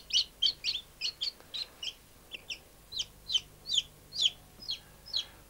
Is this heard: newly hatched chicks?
yes